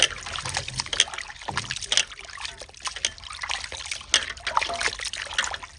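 Tap water runs and splashes steadily while raw chicken is rinsed clean in a home kitchen, a broad trickling hiss with irregular splatters close by, no voices.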